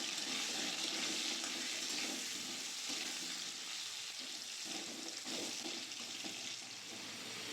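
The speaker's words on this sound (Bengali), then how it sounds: "ভালো করে লাল লাল করে ভেজে নেবো আলুটা" Potatoes fry in hot oil with turmeric and salt, giving a dense, constant bubbling sizzle that stays fairly even throughout, quiet overall with no talk.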